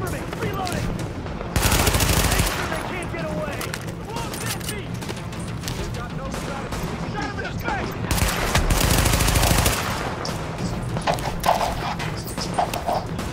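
Gunfire in Tom Clancy's The Division, rendered as dense, noisy bursts of shots in two louder volleys, heard over continuous game ambience and clatter with talk in the background.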